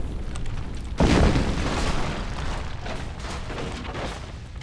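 A frag grenade in the video game Crysis explodes with a single loud, sudden boom, followed by a rumbling decay that fades over several seconds.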